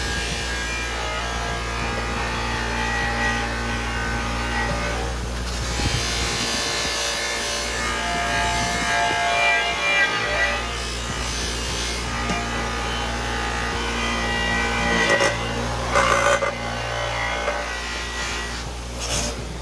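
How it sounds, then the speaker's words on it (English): An 8-inch VEVOR bench buffer polisher with a 3/4 HP, 3600 RPM motor running steadily while polishing, giving a continuous loud motor whine with rubbing and grinding friction that swells as the workpiece presses against the wheel. "Well, I'll polish it up as good as I can."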